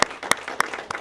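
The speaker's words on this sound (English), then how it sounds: "let's give General Moylan a round of applause" A school audience gives a round of applause for General Moylan: a few distinct, sharp claps spaced evenly apart over a quiet room, sounding thin rather than like a full crowd.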